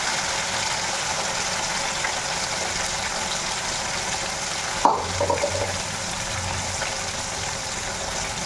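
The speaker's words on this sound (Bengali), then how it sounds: "ওদিকে মাছ ভাজা বসিয়ে দিলাম" Fish set into hot oil in a pan sizzles steadily. A sharp clatter and spatter burst comes midway, then a low hum lingers under the frying. No speech.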